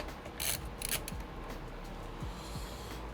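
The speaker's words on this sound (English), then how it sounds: "They click together." PC build parts on an all-AMD system snap together along a small rail, giving a few quick, faint plastic clicks close up in a quiet room.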